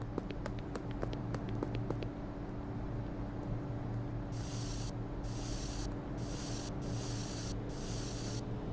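Spray paint cans hiss in a video game, several steady bursts of spraying about a second each, separated by short gaps, over a constant low background hum.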